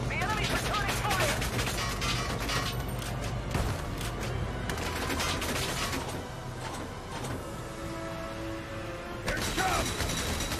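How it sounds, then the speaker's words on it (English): Enemy gunfire in Valkyria Chronicles 4: rapid clattering shots and mechanical rattling pile up densely over a droning background, loud and continuous, easing briefly before another burst near the end, with a voice faintly underneath. "The enemy's returning fire!"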